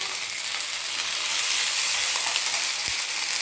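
Ginger and chilli paste frying in a pan, a steady bright sizzle that stays even and fairly loud throughout, with a faint knock partway through and no voices.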